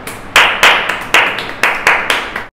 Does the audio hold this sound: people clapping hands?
yes